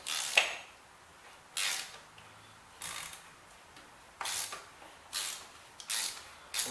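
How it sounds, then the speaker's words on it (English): An oil filter housing tool turns the filter housing counterclockwise on a Mercedes GL450 X164, producing about seven short, sharp ratcheting clicks in an uneven rhythm, close and fairly quiet, with silence between bursts. "You need the tool like this, put on the top of your oil filter housing, counterclockwise."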